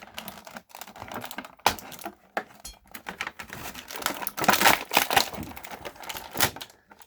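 The plastic blister packaging of a McFarlane Green Lantern (John Stewart) action figure is cut open close up, with irregular crinkling, snipping and crackling bursts that grow busier toward the end.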